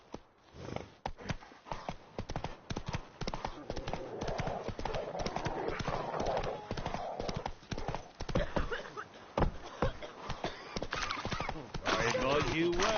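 Horse hooves clip-clop at a steady quick rhythm in The Witcher 3, close and continuous, with a voice talking over the galloping and a brief whinny-like tone near the end.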